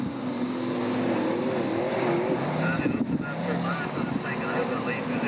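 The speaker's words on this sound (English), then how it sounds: "Cars just crawling round now." Racing cars crawl slowly round the Long Eaton track at the 1994 Spring Sizzler meeting in extremely cold weather, their engines a droning, wavering whine that rises and falls. A commentator talks over it throughout.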